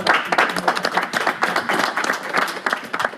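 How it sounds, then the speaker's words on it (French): A live studio audience at a public broadcast claps steadily and densely for a few seconds, a close, continuous patter of many hands with no voices over it. "encore une fois on peut l'applaudir."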